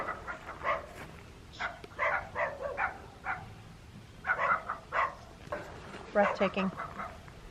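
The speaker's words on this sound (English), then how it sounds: "I wish our dogs would stop barking." Dogs bark in short repeated bursts at an RV campground at Rayburn Park, Texas, mixed in with a person talking over them.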